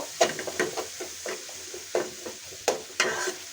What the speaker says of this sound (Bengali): এখন আমি মশলাটা খুব ভালোভাবে কষিয়ে নিব